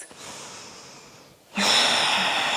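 Forceful breathing during a power yoga flow, holding warrior two, with a softer breath giving way to a loud, sustained breath that is close and alone.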